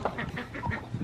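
Several ducks quack close by in a farmyard, short repeated honking calls overlapping one another in a steady, busy chorus.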